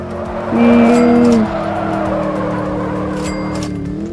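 A car in a racing video game accelerates hard with a loud, close, high tire squeal lasting about a second, then its engine keeps droning steadily.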